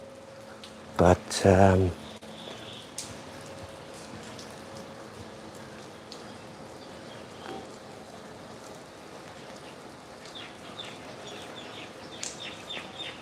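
Light rain falls steadily outdoors during a sun shower by a river near a temple, a faint continuous patter with occasional bird calls in the distance after a brief spoken word at the start.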